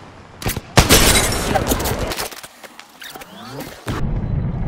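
Rapid gunfire in a battle royale shooter game, dense bursts of loud cracking shots filling most of the moment, with a brief lull and a final burst before a steady background rumble.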